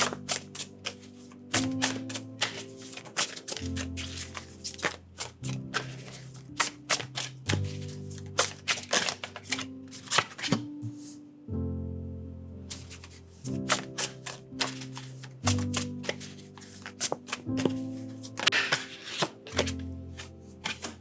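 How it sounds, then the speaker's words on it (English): Close, crisp tarot card sounds: repeated riffles and quick snaps of tarot cards being shuffled and laid down, with soft music underneath and no talk. "as I'm shuffling and putting these cards out"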